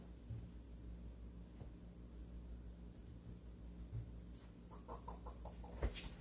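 A chicken gives a few faint, short clucks near the end, against a quiet, steady background hiss.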